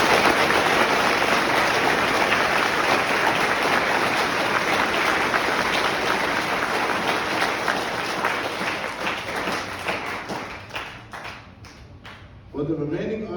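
Graduates at a military ordnance graduation ceremony give a long, loud, dense round of applause that gradually thins out and fades toward the end, after which a voice begins speaking.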